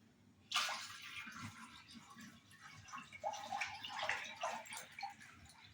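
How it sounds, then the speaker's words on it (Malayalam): A steady stream of milk pours into a pot of water for palada pradhaman, splashing and gurgling at moderate volume, with a faint voice in the background. "അതിലേക്ക് നമുക്ക് പാൽ ഒഴിച്ചു കൊടുക്കാം"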